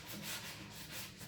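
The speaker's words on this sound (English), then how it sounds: "sometimes I'm sanding just to smooth, but sometimes I want to pull back some layers." Light sanding sponge rubbing over matte black painted wood in soft, steady strokes, quiet and close.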